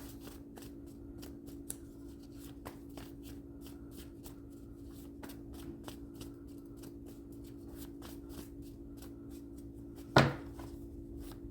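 Tarot cards are shuffled by hand in soft, quick, repeated riffles against a low steady hum, followed by a single sharper knock near the end.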